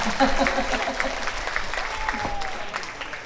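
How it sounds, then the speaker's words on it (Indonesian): An audience at an Islamic religious lecture breaks into applause, a dense, steady patter of many hands with a voice faintly heard near the start. "tepuk tangan buat Lasem dong"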